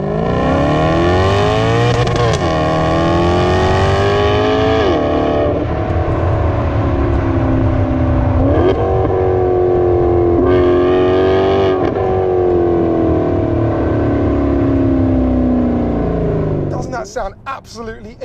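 A Maserati GranTurismo V12 engine is heard from outside, revving loudly and continuously with repeated rising and falling pitch sweeps, ending in a few crackles as it settles.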